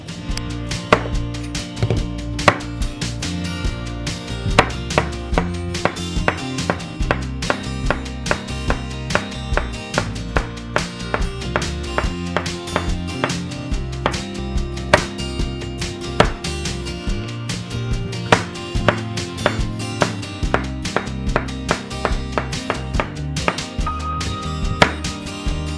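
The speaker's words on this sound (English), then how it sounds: "I'm just going to cut the tips off and maybe cut them in half or thirds" Knife cutting fresh garden green beans on a board, with quick steady chops in an even rhythm, close and crisp, continuing throughout with no talk.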